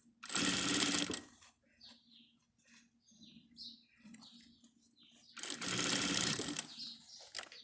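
A sewing machine stitching lining for a wallet with the presser foot, two short steady bursts of running at the start and end, close, with soft handling noises in between.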